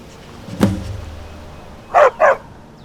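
A dog in the Skyrim video game, Barbas, gives one short bark, then after a pause two quick, sharp barks close together, fairly near and clear against a quiet background.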